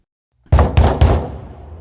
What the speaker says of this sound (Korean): 현관문을 두드리는 소리였어요